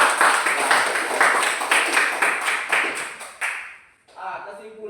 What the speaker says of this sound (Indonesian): kita dulu kasih aplaus untuk teman-teman kita